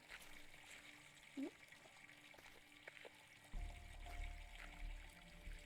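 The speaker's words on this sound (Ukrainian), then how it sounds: "Наповняться бочка." Water from a hose runs into a barrel in a video game, a quiet trickle that swells into a fuller, steadier pour partway through, with a few faint knocks.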